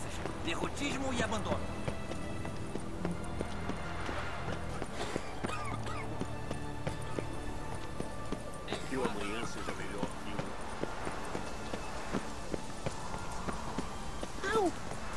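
Horse hooves clip-clopping at a fast gallop in The Witcher 3, a busy continuous rhythm with game sounds around it and someone talking over it throughout.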